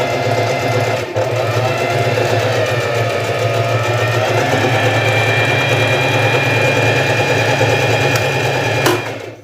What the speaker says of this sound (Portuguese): Então vamos aqui testar o ponto da máquina.